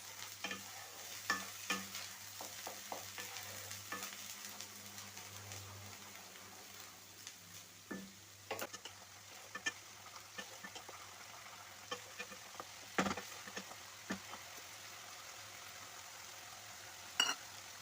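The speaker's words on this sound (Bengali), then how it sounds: "ভালো করে আমি পেঁয়াজটা ভেজে নেব যতক্ষণ না পেঁয়াজটা হালকা ব্রাউন কালার হয়ে যাচ্ছে" Onions frying in a pan until light brown for an egg masala curry give off a quiet, steady sizzle, punctuated by sharp clicks and scrapes of stirring at irregular intervals, with no talking.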